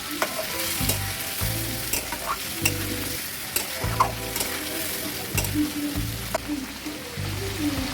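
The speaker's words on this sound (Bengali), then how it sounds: "জল দিয়ে মাংসটা কষাতে হবে, কারণ গুঁড়ো মশলা যদি তলায় লেগে যায় সেজন্য একটু জল দিয়ে দিচ্ছি।" Chicken with ground spices and a splash of water fries in a pan, a dense continuous sizzle with repeated stirring scrapes in a steady rhythm, close and fairly loud, no talking.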